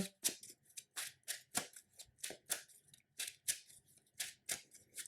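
Playing cards for the Marvel Champions card game are reshuffled by hand. Each shuffle is a crisp, sharp riffle burst, repeating about twice a second in a steady rhythm. The sound is close and quiet, with no talking.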